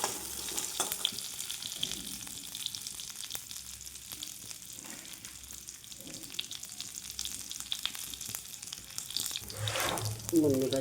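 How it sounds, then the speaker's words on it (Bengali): Water poured into a pan of hot oil while making a sour fish-roe curry gives a soft hiss and gurgle over a low frying background, building to a louder splashing burst near the end. "জল দিয়ে দিলাম"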